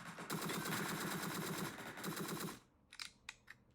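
Rapid automatic gunfire from the video game Entry Point rattles in a sustained burst for a couple of seconds, then a few scattered single shots follow.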